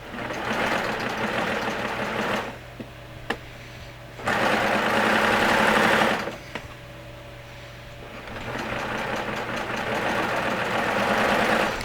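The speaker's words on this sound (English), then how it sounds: "And I'm letting the serger just take the fabric." Serger trimming and overlocking a shirt armhole edge, bursts of loud fast whirring motor separated by quieter pauses, close and running slowly, with a final long run toward the end.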